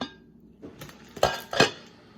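A crock pot is handled in a kitchen before greasing, giving two sharp ceramic-and-metal clinks about a third of a second apart, close and fairly loud, after some faint shuffling.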